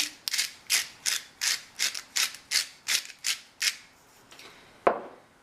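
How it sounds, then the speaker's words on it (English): A salt grinder is cranked about a dozen times in a steady rhythm, each turn a close, gritty crunching rasp, followed by a pause and one final sharp click. "I'm going to add just a few more cranks of salt"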